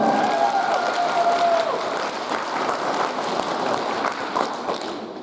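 A concert audience in Ukraine applauds loudly after a dance ensemble's performance, a full, continuous wash of clapping with a brief tonal note early on, slowly tapering toward the end.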